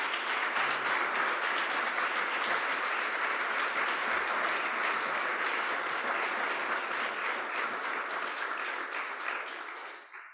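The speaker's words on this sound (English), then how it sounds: "welcome a round of applause for these amazing folks." Sustained audience applause for maintenance staff at an annual meeting, a dense, steady roar of many hands clapping for about ten seconds before fading out at the end.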